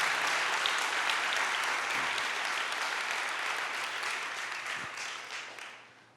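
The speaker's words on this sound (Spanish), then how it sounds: "Si le va a aplaudir, apláudale al Señor." A church congregation applauds during a sermon, a fairly quiet but dense spread of clapping that holds steady and gradually fades away toward the end.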